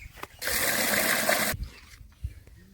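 Water pours from a bucket for bullocks in a single gush lasting about a second, with faint handling knocks before and after.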